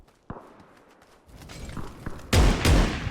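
Gunfire from a long-range headshot in the Western battle royale game Cowboy Royale: a sharp early crack, scattered smaller shots and footsteps, then two loud, heavy blasts near the end.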